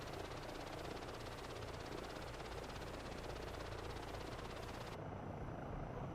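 A helicopter in Microsoft Flight Simulator 2024, played on PS5, drones steadily with a continuous rotor and engine roar; the upper hiss drops away abruptly near the end while the low drone carries on.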